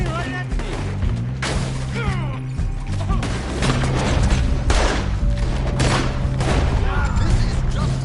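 Heavy gunfire aimed at the player in a PS4 shooter game, loud rapid bursts and crashing impacts pounding almost nonstop, with shouted voices mixed in over the barrage.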